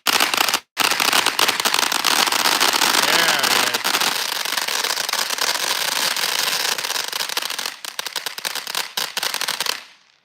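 TNT consumer fireworks with two tubes firing at once, a dense, loud continuous crackling barrage that runs almost the entire stretch before tailing off into scattered pops; voices talk faintly underneath.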